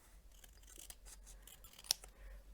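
Scissors trim a small overlap of craft paper on a Christmas home decor piece, a few faint close snips with one sharper cut in an otherwise quiet room.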